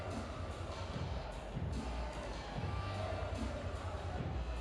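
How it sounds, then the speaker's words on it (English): Crowd at a college baseball game, Virginia against Columbia: a low, steady murmur of spectators in the stands, faint and distant, with no clear cheering burst. "Good crowd on hand, ready to erupt, waiting to finally see Virginia break through."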